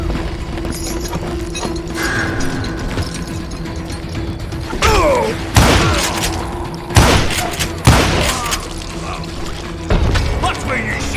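Gunfire in the Western shooter Call of Juarez Gunslinger, several loud sharp shots spaced a second or so apart over a steady bed of game ambience and music, with a voice calling out amid the action.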